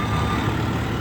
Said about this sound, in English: a lot of traffic going right now.